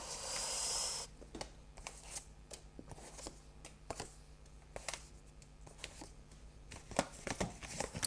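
Cards being laid out and turned over for a reading, a series of soft close slaps and flicks at irregular intervals after a brief burst of shuffling, with no talk.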